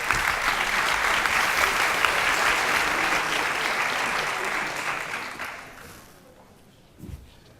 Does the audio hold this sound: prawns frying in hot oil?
no